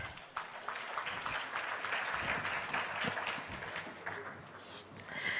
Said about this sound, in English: Can they have another round of applause, please?